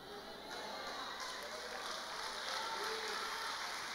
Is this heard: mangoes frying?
no